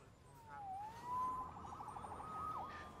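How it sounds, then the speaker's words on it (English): A faint, distant siren wails and bends in pitch for a few seconds, swooping down and up again through low background noise with no talking. "Saved by the siren."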